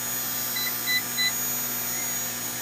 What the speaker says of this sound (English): Oh, I've left the meter on, it's beeping at me